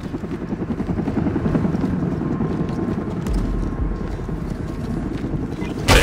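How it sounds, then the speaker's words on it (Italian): An approaching helicopter in the shooter game Army of Two: The Devil's Cartel gives a dense, chopping rotor rumble that stays steady and fairly loud, mixed with other game noise. "L'elicottero in arrivo."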